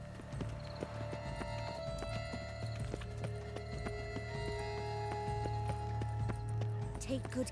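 Steady hoofbeats of a galloping horse in The Witcher 3: Blood & Wine, with a faint whinny and a voice talking over the rhythmic clip-clop.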